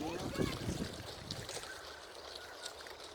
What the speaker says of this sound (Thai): โอ้ลมพัดแรงมากเลยค่ะ